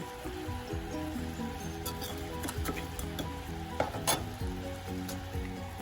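Shrimp paste frying with melting palm sugar in a pan, outdoors, a steady sizzle with stirring and scraping clinks throughout, fairly close and moderately loud, with no talking.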